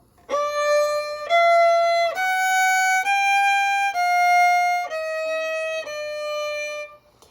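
A violin plays a G melodic minor turnaround with the E fingered by the fourth finger, about seven smooth bowed notes rising then falling, close and sustained, alone without speech.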